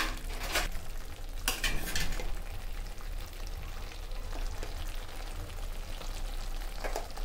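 Meal maker masala curry sizzles steadily in a pan while a spoon stirs it, with a few scraping clinks against the metal under the continuous frying hiss.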